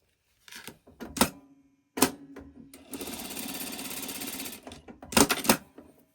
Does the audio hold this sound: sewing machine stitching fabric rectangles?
yes